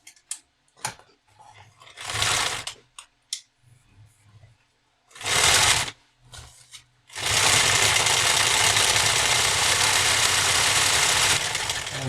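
A sewing machine runs a straight seam through stiff bag fabric, starting in short separate bursts of stitching, then settling into one long steady whir that continues to the end.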